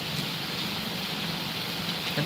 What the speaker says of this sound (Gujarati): મસ્તી નો વરસાદ પડી રહ્યો છે